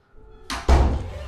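A door being opened indoors in a home: faint shuffling, then a sharp close thud and a louder heavy bang of the door moving, followed by a short rumbling tail.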